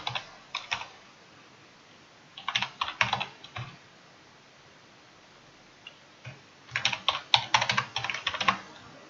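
Clicky computer keyboard typing in three separate bursts of rapid keystrokes with quiet gaps between, close and moderately loud, no talking.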